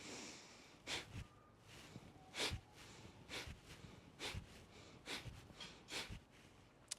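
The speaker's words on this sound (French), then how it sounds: "expirer en projetant de l'air très sèchement par vos narines" Sharp, forceful exhalations through the nostrils during a gentle yoga breathing exercise, six or seven dry puffs in an even rhythm, close and fairly soft, with quiet gaps between.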